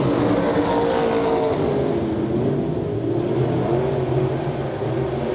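Limited modified race cars racing at Devil's Bowl Speedway, a loud, continuous roar of several engines at full throttle with shifting pitches as the pack runs down the front straightaway.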